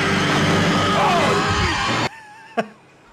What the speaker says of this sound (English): Was that the shark screaming?